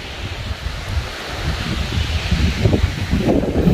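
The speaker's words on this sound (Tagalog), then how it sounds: "yung lakas ng hangin lang yung maririnig mo eh" Strong wind buffets and gusts continuously, rustling through trees with a rough, blustery roar that swells toward the end, outside a house in Alberta.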